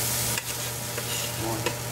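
Sizzling food being stirred in a pan, a steady close hiss with a low hum beneath and a few scrapes of the spoon, no voices heard.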